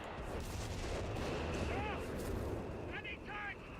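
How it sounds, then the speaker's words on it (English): Base artillery fires in the Company of Heroes 3 video game, a loud rumbling barrage of booms and blasts, heard alongside speech and some short whistling tones. "base artillery firing somewhere"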